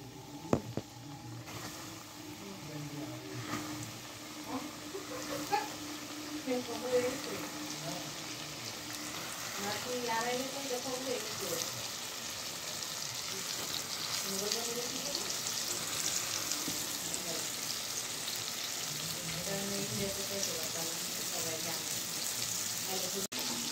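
Chicken pieces fry in hot oil in a frying pan with a continuous, fairly loud sizzle that builds and stays steady, while a voice speaks over it early on.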